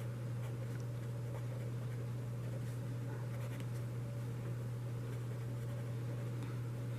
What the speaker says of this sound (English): So let me write sum or difference of cubes.